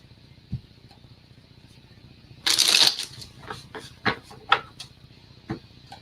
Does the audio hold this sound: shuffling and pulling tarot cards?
yes